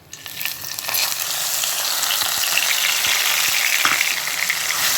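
Ground onion and green chili paste hits hot oil in a pan and fries with a loud, steady hissing sizzle that swells after the first second and holds throughout, with a few light stirring taps.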